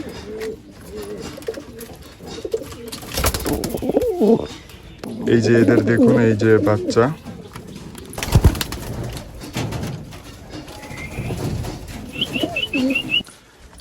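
Pigeons and their sick chicks cooing softly in a loft, low throaty coos with a burst of wing flapping and faint chirps, heard close under a voice talking over them.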